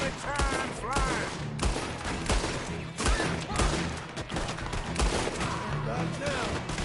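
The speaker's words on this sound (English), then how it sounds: "Finally shot somebody, but wasn't who I was aiming at." Gunfire in Red Dead Redemption II, a Western video game, sounds as several sharp shots scattered through the clip over a dense background of game sound and music.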